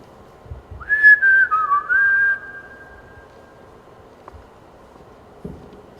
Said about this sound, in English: Could you whistle out there?